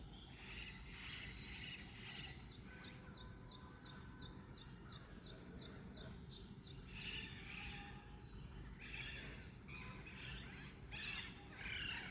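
Parrots squawk and chirp repeatedly in rapid bursts, some at a distance, over a steady low background hum.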